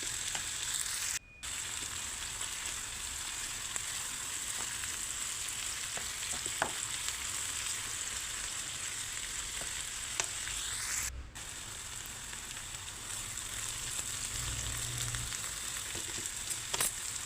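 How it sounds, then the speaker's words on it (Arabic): Cauliflower and broccoli fry in butter with a soft, constant crackling sizzle and occasional small pops and clinks, fairly quiet and close, with two brief drops to near silence. "نحمرها مليح في الزبده هذه، والبروكلي هو يطيب"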